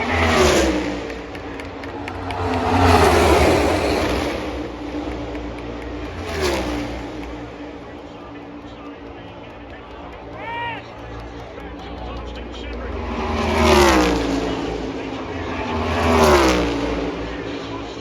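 Stock cars roar past on the Talladega superspeedway during a Cup race, several loud engine swells rising and falling as packs sweep by, with crowd noise and excited spectator shouting throughout.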